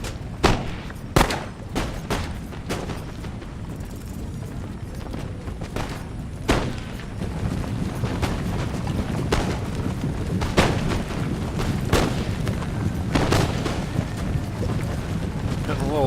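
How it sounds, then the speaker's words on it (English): Scattered musket volleys and booming artillery fire in the Empire Total War battle game, with sharp cracks and dull thuds spread across a continuous rumbling, wind-like background. "They're starting to shoot back at me."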